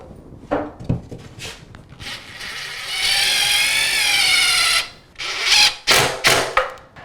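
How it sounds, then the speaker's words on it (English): A power drill drives a 3-inch wide-head cabinet screw through a cabinet into an uneven wall, with a sustained whirring burst in the middle framed by short knocks and clicks of handling before and after. "We sink the screw in there."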